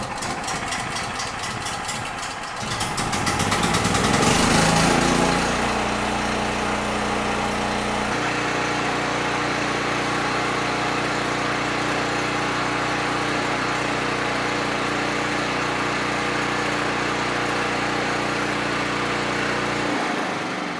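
A portable 8.0 kW gasoline generator starts after a rope pull and settles into a steady, loud, close engine drone that holds evenly to the end.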